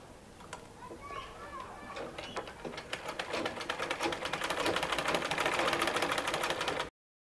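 A sewing machine runs a fast rattling stitch along the neckline of a shalwar kameez, starting hesitantly and then building into a steady dense whir that cuts off abruptly, with someone talking in the early part.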